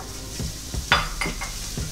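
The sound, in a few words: freshly chopped garlic frying in oil in a karahi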